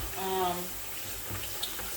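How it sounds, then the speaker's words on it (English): Hot water runs from a laundry room faucet into a container, a quiet steady stream with a few faint clinks and a murmured voice early on. "I'm just gonna fill it up right here from my faucet"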